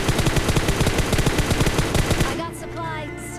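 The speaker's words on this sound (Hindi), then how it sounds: "ये देखो एक बंदा फायर कर रहा" Rapid automatic gunfire from an enemy player in PUBG Mobile on the Livik map, a fast steady burst of close, loud shots lasting about two seconds before cutting off.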